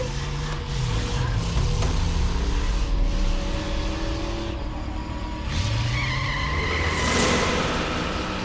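A car's tires skid and screech over a steady engine roar, with several rising and falling squeal sweeps across a loud, continuous stretch and no voices.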